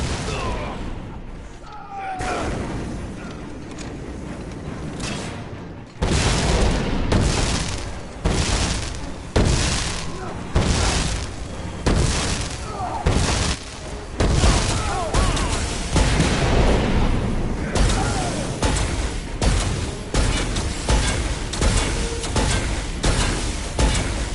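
Repeated loud gunfire from the Dead Rising 4 video game, a long run of heavy booming shots in uneven bursts after a quieter opening, continuing for most of the stretch.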